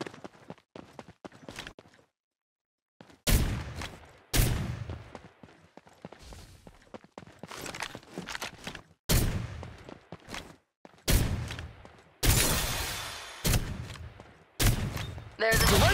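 Farlight 84 gunfire, repeated sharp loud shots and short bursts in irregular clusters with brief pauses and a near-silent gap early on, close and punchy, with faint game footsteps between.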